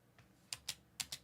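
Four crisp computer keyboard key presses in two pairs, close and clear, with only a faint earlier tap and no talk.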